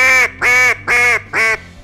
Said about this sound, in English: That's literally a quack each time.